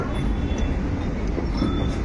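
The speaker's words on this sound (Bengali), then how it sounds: "আমাদের ট্রেন এখন ব্যান্ডেল জংশনের 7 নম্বর প্ল্যাটফর্মে ঢুকছে।" Steady low rumble of a local train entering platform 7 at Bandel Junction at close range, a continuous rail drone without pauses or voices.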